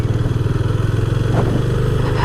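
A Yamaha FZ25 or KTM Duke 250 motorcycle being ridden, its engine loud and close with a steady pulsing throb that holds an even pace throughout.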